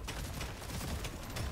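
Rapid bursts of grenade launcher fire in Deep Rock Galactic, dense and noisy, with repeated sharp blasts layered over a constant roar, fairly faint and without any talk.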